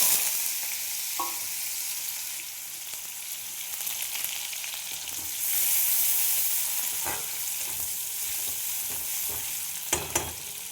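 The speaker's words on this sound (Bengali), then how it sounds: "পেঁয়াজগুলো ভেজে নেব" Onions sizzling steadily in hot oil in a pan, a constant bright frying hiss with occasional stirring scrapes and clinks, close and fairly loud with no talking.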